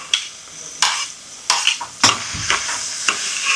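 Garlic frying in a pan for chili garlic, a steady sizzle broken by repeated clinks and scrapes of a utensil stirring against the pan, close up.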